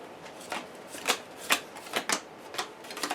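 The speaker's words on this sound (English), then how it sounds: "So, let's start setup and we'll shuffle our decks." Decks of cards for the Lord of the Rings card game being shuffled, a run of crisp riffling bursts at a steady rhythm, close and fairly quiet with no talk.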